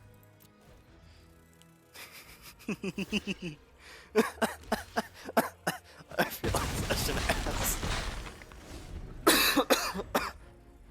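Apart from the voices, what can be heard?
coughing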